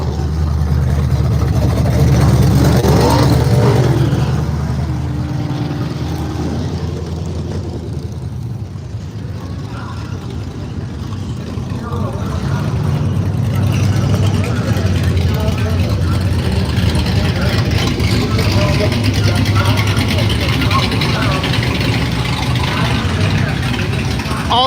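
Race cars idle and rumble at the starting line beneath the tower at the Miles of Mayhem event, a steady loud engine drone with low growl throughout, swelling again after a brief dip, with people talking nearby.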